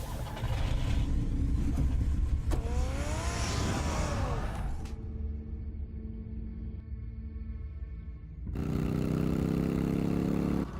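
Engine of the Batmobile from a Batman video game revving and driving away, a loud mid-pitched roar with a rising whine that cuts off, then a quieter hum before another burst of engine noise.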